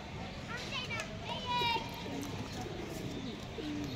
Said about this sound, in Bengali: টুর্নামেন্ট খেলা কবুতর যাদের পছন্দ, যারা নিতে চান